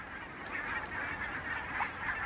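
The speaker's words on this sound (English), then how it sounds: "the aquatic birds magically gravitate from the surrounding area towards the last ice-free place in the lake" Geese and other waterfowl honk and call together at an ice-free patch of a lake, a dense, continuous chorus at moderate distance with overlapping honks and no talk.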